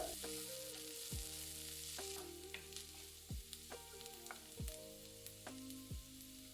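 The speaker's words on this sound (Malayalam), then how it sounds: "ഒരു സവാള ചെറുതായിട്ട് അരിഞ്ഞത്, 4 വറ്റൽമുളക്, 3 പച്ചമുളക് ചെറുതായിട്ട് അരിഞ്ഞത്, കുറച്ച് കറിവേപ്പില, ഇത്രയും ഇട്ട് നന്നായിട്ട് വഴറ്റുക." Chopped onion, dried red chillies, green chillies and curry leaves sautéing in a pan for a Kerala okra thoran, a constant sizzle with repeated clanks of a spoon stirring against the pan, no talking.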